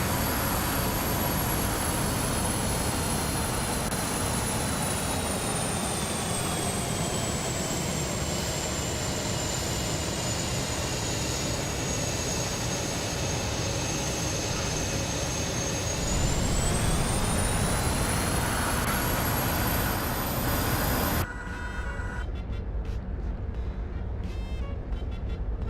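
An airplane engine in VRChat hums loudly and continuously during flight, its pitch dipping and rising again before it cuts to a quieter, different background.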